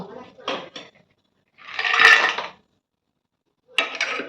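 Metal pots and lids clatter and clink in a kitchen while rice is set to cook and covered, with a few short knocks, a longer scraping clank, and a final rattle, separated by silence.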